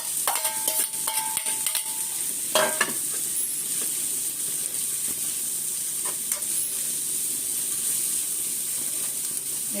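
Grated bottle gourd sautéing in a little oil for Gujarati handvo gives a steady close sizzle, with a burst of clattering stirring scrapes early on, then an even frying hiss.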